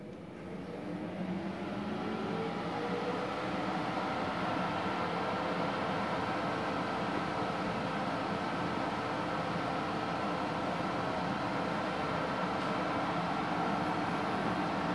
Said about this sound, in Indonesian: saya akan nyalakan terlebih dahulu mesin las